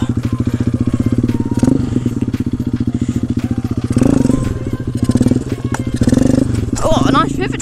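Pit bike engine revving through slow wheelies, loud close pulsing putter with repeated throttle bursts and mechanical clatter, engine note dipping and surging, a voice briefly heard over it.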